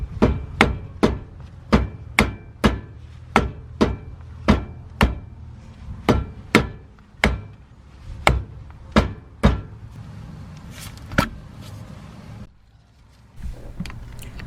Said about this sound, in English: Remove the hubcap. Tapping is usually all it takes.